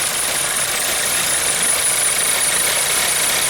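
Rough, loping idle from a 2014 VW Jetta GDI turbo engine with an intermittent misfire and low power, a steady broadband engine drone close to the mic, with no talking over it.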